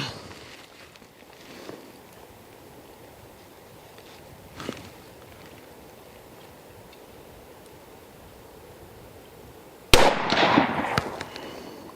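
A 6.5 Creedmoor rifle fires at an outdoor range. A single sharp, loud report cracks out after a long, quiet stretch and rings off briefly, with two much fainter pops earlier.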